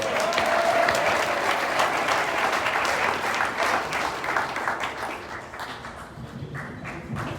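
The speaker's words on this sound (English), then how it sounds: "give themselves a big round of applause for being involved and being engaged" A community activists' gathering breaks into a big round of applause for its participants, dense clapping from a sizable crowd that stays strong and then gradually thins toward the end.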